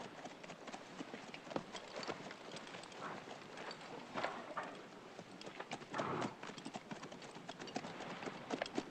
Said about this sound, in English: Dismount and lead out, Mr. McQuaid.